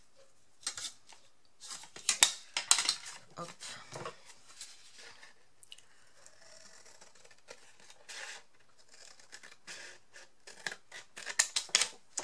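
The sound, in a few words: scissors cutting paper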